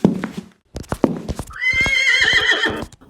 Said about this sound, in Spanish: El demonio comenzó a hacer el ruido exacto del relincho y el trote de un caballo.